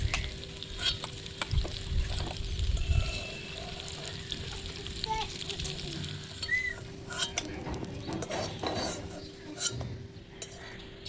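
Steady sizzling of food frying in hot oil in a home kitchen, with occasional utensil scrapes and clinks as it's stirred.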